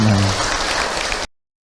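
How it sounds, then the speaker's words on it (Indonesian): An audience at an Islamic religious talk breaks into applause, a dense burst of clapping with a brief voice at the start, cutting off abruptly before silence. "Tepuk tangan Ibu untuk Ahilman."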